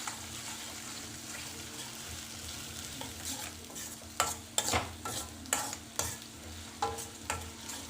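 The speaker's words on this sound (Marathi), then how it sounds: "अद्रक लसूण पेस्ट टाकूया, 1 चम्मच। त्याला छान मिक्स करून घेऊया।" Ginger garlic paste being stirred into cabbage and peas sabzi in a hot pan, soft continuous frying hiss with a run of distinct spatula scrapes and knocks building toward the end, no talking.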